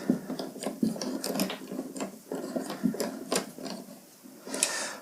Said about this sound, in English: the screw will go in, and then you can tighten that up